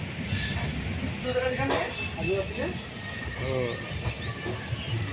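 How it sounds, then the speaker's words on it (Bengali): The Kolkata Sairang Express rolls slowly into Azimganj Junction, its wheels squealing in repeated high shrieks over a rumbling clatter of rail cars, loud and close. "আজিমগঞ্জ জংশনে প্রবেশ করলো কলকাতা সাইরাং এক্সপ্রেস"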